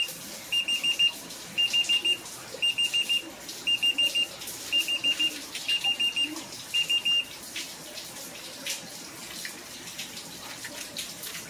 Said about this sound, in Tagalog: gagawa siya ng beep sounds kapag may isang sensor siyang hindi na ma-detect